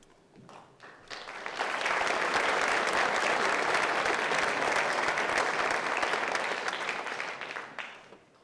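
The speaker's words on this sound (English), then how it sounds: "let's give one final round of applause to all of our senior students committing to our armed forces" An audience at a military recognition ceremony for senior students joining the armed forces claps, the applause swelling quickly into a sustained, dense round before tapering off at the end.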